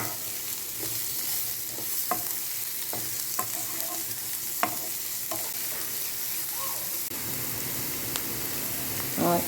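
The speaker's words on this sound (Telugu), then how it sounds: "ఆ తర్వాత సన్నగా తరిగి ఉంచుకున్న వెల్లుల్లి ముక్కల్ని వేసుకోవాలి. అన్నీ బాగా వేపుకోవాలి." Chopped garlic, onion and spices frying in a pan, a steady dense sizzle running throughout with scattered light clicks and scrapes of a stirring spoon, close and without talk.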